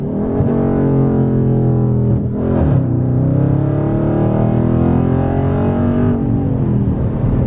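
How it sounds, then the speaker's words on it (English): A 2021 widebody Dodge Charger 392 Scat Pack with a ZL1 wicker bill, its loud engine revving hard and steady, then dropping briefly as it downshifts into second gear before the note climbs again, close and continuous with no talk. "I'm gonna try to give y'all a second gear downshift"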